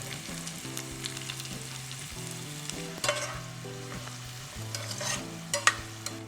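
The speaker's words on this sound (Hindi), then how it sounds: "बस यही टाइम पे मैं इसमें ऐड कर देती हूँ सेलेरी के पत्ते और उसका स्टेम्स एंड सफ़ेद वाले तिल" Celery leaves, stems and white sesame seeds fry in oil for Schezwan chutney, with a steady close sizzle and occasional stirring scrapes under background music, and no talking.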